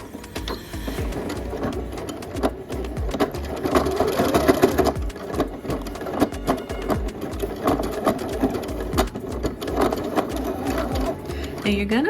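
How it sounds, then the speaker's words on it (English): Sewing machine back stitching fabric for a dress pattern, running in a steady rapid mechanical whir with short pauses and restarts, close and prominent, while a person talks over it. "So let's go ahead and back stitch at the beginning and the end."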